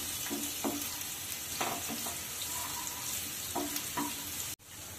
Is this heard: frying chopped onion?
yes